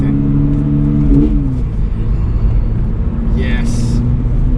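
A Toyota GR86 sports car accelerates hard along a twisty road, its engine rising in pitch through the revs with steady interior road rumble, and a voice talks over it.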